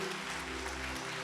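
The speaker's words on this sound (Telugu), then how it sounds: "చప్పట్లు కొట్టమ్మా, చప్పట్లు కొట్టండి, చప్పట్లు కొట్టండి బిగ్గరగా" A church congregation claps loudly during a sermon, a dense, steady wash of applause with no break, under a sustained low hum.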